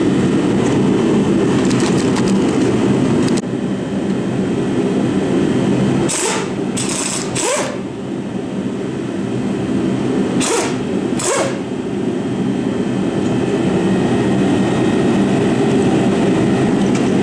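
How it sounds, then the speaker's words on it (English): An impact gun with a 15 mm socket and swivel removes the caliper bracket bolts on a GM front wheel hub, heard as several short, sharp rattling bursts over a loud, constant background roar. "we're going to use a 15 millimeter with a gun and a swivel"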